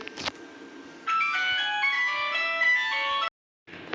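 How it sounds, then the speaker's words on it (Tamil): A phone ringtone plays a bright electronic melody of rapid tones for a couple of seconds, cuts off abruptly, then starts again, heard clearly with no talking. "நடுவில் அந்த வீடியோவில் ஃபோன் அடிச்சிச்சு"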